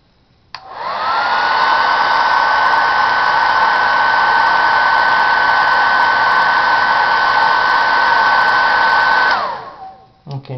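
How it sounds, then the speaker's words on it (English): A hair dryer switches on, blows hot air in a loud, steady whirring roar for about nine seconds, then winds down and cuts off. "using a hair dryer, blowing on it with hot and cold air, I can really make this thing change quite a bit."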